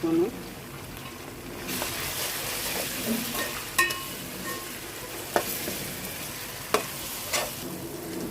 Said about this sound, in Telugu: అల్లం వెల్లుల్లి పేస్ట్ ఫ్రై అయిందండి